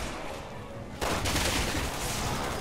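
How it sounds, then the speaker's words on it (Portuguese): A turret opens fire in Resident Evil 6: after a second of low background, a loud burst of rapid automatic gunfire starts abruptly and keeps going steadily to the end. "atirando em nós, ó"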